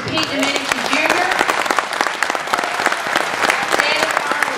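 Dense, sustained audience applause fills a Lincoln County Tea Party political debate in Ruidoso, New Mexico, loud and steady from start to finish with crowd noise mixed into the clapping.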